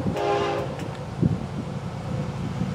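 The FEC101 freight train, led by four engines, passes with a short horn blast at the start and a steady rumble and clatter of rolling wagons, heard outdoors at moderate distance in the evening.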